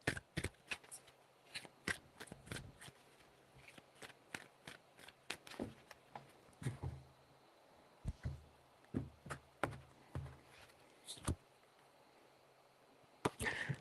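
Tarot cards being shuffled by hand, a quiet series of sharp riffling flicks and soft slaps in uneven bursts, close to the microphone, with no talking.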